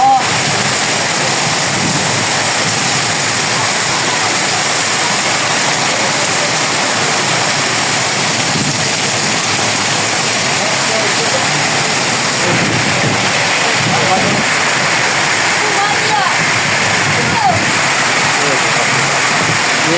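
Floodwater after heavy rain rushes steadily through a street with overflowing drains, a loud, unbroken roar with faint voices underneath.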